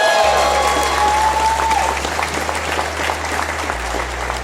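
A convention audience applauds loudly and steadily for an artist being welcomed on stage, a dense crowd clapping that fades slightly while a low hum runs underneath.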